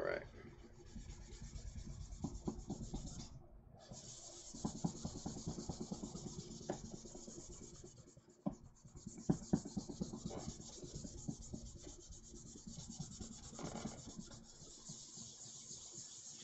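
Steady scratchy rasping of sandpaper rubbed back and forth by hand on a plastic model kit part, close up, with a brief pause partway through.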